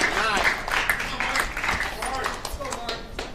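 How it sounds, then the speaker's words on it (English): Fans in the crowd at a table tennis championship final calling out and cheering, scattered shouts and claps under continuous commentary. "You hear some of the fans in the crowd trying to give Mark some extra encouragement"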